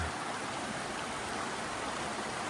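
A brook rushing beneath a trail bridge on the 19-mile trail near Madison, a dense, steady hiss of flowing water close by with no breaks or voices.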